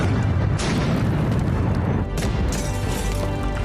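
A blast in Beirut sounds out as a loud, dense, sustained boom with rumbling low end and crashing noise, a second surge arriving midway.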